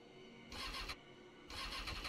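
A KTM 1290 Super Duke R motorcycle engine in The Crew 2 idles, then revs in two sharp bursts, each a roaring blip of about half a second, close and loud.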